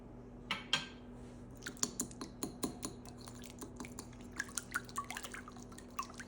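An egg wash of one egg, vanilla and honey being mixed for challah, with a quiet run of light clicking taps as a utensil strikes the bowl, irregular and close, and no talking.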